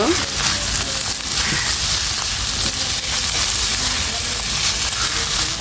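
Chicken frying in a pan with beaten egg, a loud steady sizzle with occasional scraping of a spatula, close and continuous.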